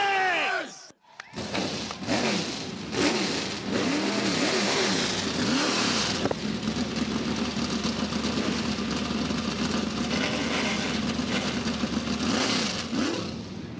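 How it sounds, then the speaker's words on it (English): Race car engines roar to life after a brief pause at a nighttime pole qualifying event, then rev and drone loudly together, a crowd cheering faintly beneath the sustained mechanical rumble. "drivers, start your engines!"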